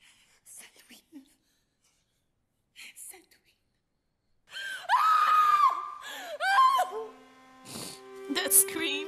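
A woman's anguished scream rises out of the Hamilton musical cast recording, loud and sustained, followed by strained sung or sobbing vocal lines, with faint whispery voices earlier in the quiet.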